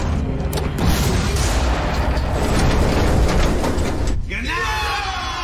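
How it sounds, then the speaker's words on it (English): A heavy rumbling blast with dense broadband roar from a scene in a crime drama, sustained and loud for about four seconds and then cut off, followed by a tonal sweeping sound, with voices in the mix. "What a loud ass truck to cover the sound of the explosion."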